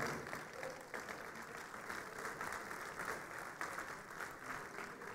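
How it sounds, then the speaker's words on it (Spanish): An audience claps steadily at an innovation ecosystem event in Guadalajara, a dense, even wash of applause with a faint voice underneath. "un aplauso para él, por favor"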